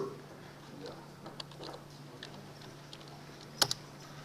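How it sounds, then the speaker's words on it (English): Sparse, faint keystrokes on a computer keyboard as a password is entered in a university programming lecture hall, with a low steady hum underneath and a couple of sharper clicks near the end. "And I'm typing that password."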